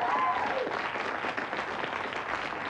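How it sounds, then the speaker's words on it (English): Studio audience on the Blockbusters quiz show breaks into steady, sustained applause, a dense wash of clapping at even level throughout with no one speaking over it. "So I think they deserve a massive round of applause."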